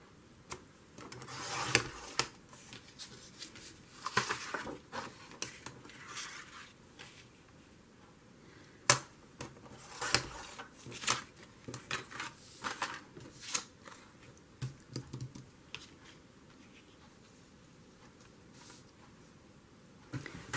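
Scissors cut paper for a journal page, making close, irregular snips and rustles that come in scattered bursts over a quiet background.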